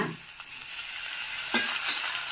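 Ridge gourd, tomato and onion frying in a pan for heerekayi chutney, a close, steady sizzle with a couple of brief stirring scrapes.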